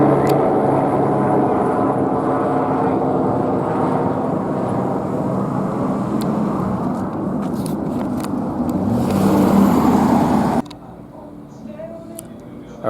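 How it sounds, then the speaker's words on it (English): A helicopter approaches overhead, producing a loud, broad rumbling whir that builds steadily and peaks near the end before cutting off suddenly, with a lone voice speaking briefly. "Helicopter approaching, black and white passing by."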